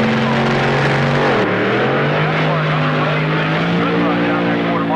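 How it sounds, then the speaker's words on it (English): A 1971 drag racer with a 392 cubic inch Hemi Chrysler engine roars loud and close at the starting line, its deep pulsing note dipping and climbing again as it launches, with a commentator talking over it. "He'll bring the machine forward on his own with that 392 cubic inch Hemi Chrysler just pulsating away."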